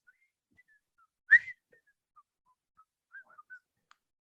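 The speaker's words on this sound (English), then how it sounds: "You can't whistle and smile at the same time." A person whistles the Andy Griffith theme song, a single clear brief note followed by a few faint, sparse whistled notes in near silence.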